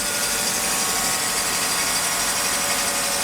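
A Mercedes M104 engine idling with its air pump running, giving a steady, dense mechanical hum and whir with a constant level and no talk.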